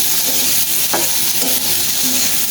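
Green chillies frying in a pan with chilli powder, turmeric, coriander and cumin, a loud continuous sizzle broken by a few stirring scrapes, close up with no speech.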